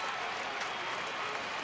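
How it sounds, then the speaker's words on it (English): A baseball crowd in a Los Angeles Angels at Texas Rangers game roars steadily and swells as it rises, a dense continuous cheer with no break. "Crowd rising behind Harrison"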